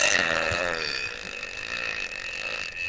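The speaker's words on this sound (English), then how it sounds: "God, now I'm burping." One long, loud, close burp from a person, rumbling and fading over a few seconds, with no talk over it.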